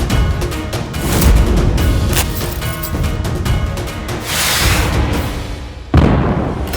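A rapid, crackling series of sharp bangs and pops, loud and close, continuing for several seconds before a final heavy burst.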